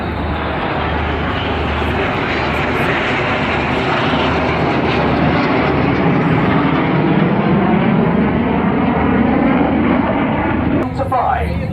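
Red Arrows jets roar continuously at close range while flying the corkscrew at the Sunderland Airshow, with a dense, loud engine rush. A commentator talks over it.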